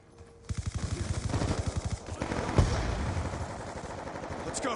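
Rapid automatic gunfire from hip firing in a shooter video game comes as a loud, tight burst of close shots, followed by a sharp blast and more scattered game noise.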